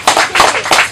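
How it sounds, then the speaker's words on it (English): At a homework and development centre opening, an audience claps loudly and close by for the Member of Parliament, with a few quick bursts of clapping in one short second. "Give a big round of applause for Mr."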